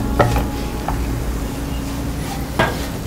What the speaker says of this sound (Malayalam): വേവിച്ച് വെച്ച ചിക്കൻ ആഡ് ചെയ്യാം.